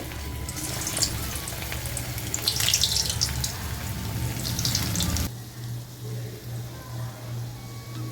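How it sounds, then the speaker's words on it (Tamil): Small-cut onion pakoda (pattanam pakoda) frying in hot oil, a bright crackling sizzle that bursts louder midway, then drops to a quieter, steadier bubbling with a low hum underneath. "இப்போ இதை பொரிச்சு எடுத்துடலாம். எண்ணெய் காஞ்சிடுச்சு."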